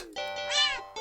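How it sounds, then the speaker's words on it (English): One close, clear cat meow rises and falls in pitch and ends with a short second call. "Meow!"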